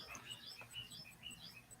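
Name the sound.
hummingbird singing outside a window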